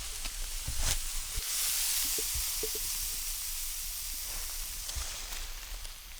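Sausage and peppers cooking in a pan over a campfire outdoors, a steady close hiss and sizzle with a few faint crackles and light knocks from tossing.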